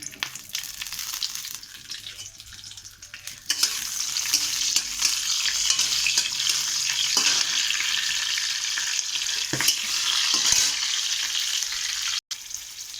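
Panch phoron and green chilies fry in a little oil for a jackfruit seed dish, a steady close hiss and sizzle running throughout with a few stirring scrapes and no talk.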